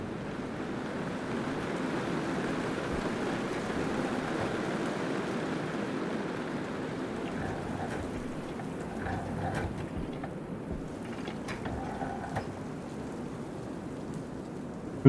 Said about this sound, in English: I have to wait till the dang storm ends.